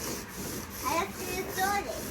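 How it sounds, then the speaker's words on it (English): A child saws a piece of wood by hand, producing close, rough, rhythmic rasping strokes of moderate loudness, with faint voices in the background. "She's just sawing it."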